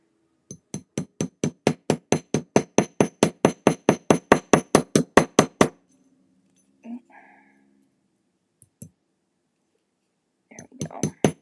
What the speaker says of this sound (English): make sure I'm on my block before I slam my hammer down